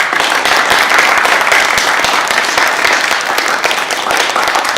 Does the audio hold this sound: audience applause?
yes